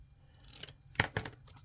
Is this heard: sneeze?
no